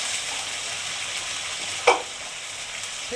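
Ginger, garlic, coriander, cumin and chili paste frying in a pan after onions, a steady broadband sizzle throughout with one brief louder hiss as the paste hits the oil, no talking.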